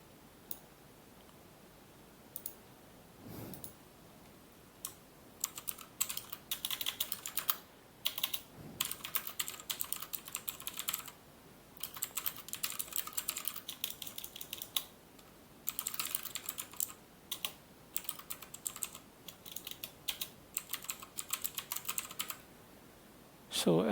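A computer keyboard types a comment in a web page editor, with clattering bursts of close keystrokes separated by short pauses and a few isolated clicks.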